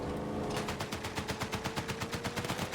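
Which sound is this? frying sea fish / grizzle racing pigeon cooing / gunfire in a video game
gunfire in a video game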